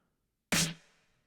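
A snare sample layered with a clap on top, adding texture to a self-produced track; one crisp, bright hit that rings briefly and fades, heard on its own.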